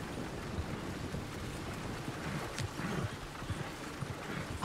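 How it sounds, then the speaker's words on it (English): Horse hooves clip-clop on a dirt road in Red Dead Redemption 2, a steady, moderately faint rhythm of hoofbeats under rainy, rustling ambience, with no talking. "Look where you want to go and the horse will follow."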